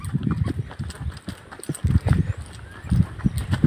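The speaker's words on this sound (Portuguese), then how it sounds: "Tô aqui amontado no cavalo aqui." A ridden horse's hooves clip-clop in a steady walking rhythm on hard ground on a farm, close and moderately loud, with no talking.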